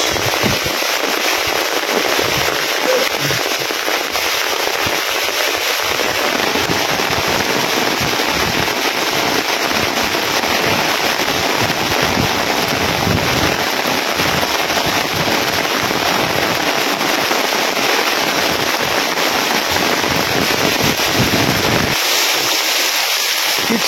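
Heavy rain pours with strong wind in a constant, loud, dense roar that drowns everything, with gusts buffeting the microphone over farm fields outdoors.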